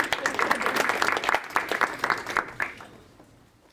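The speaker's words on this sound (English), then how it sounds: "Let's give them a huge round of applause." A demo day audience at the Claremont Accelerator gives a round of applause, dense and fairly close claps rolling steadily before thinning out and fading to quiet near the end.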